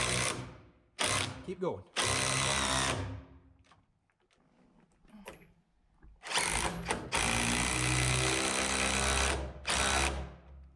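An old DeWalt impact driver hammers in long loud bursts, driving a fastener until its washer pulls into the wood of a pole barn house wall, with short pauses between runs while people talk nearby.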